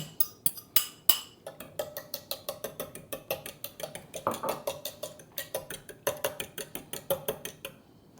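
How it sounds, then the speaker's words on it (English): A whisk clatters rapidly against a bowl as beaten egg is mixed into milk for berry shortcakes, giving a steady run of sharp, bright metallic ticks and clinks up close, with no talking. "I'm going to add it to the milk. I'm just going to whisk that in together."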